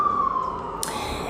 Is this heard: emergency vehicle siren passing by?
yes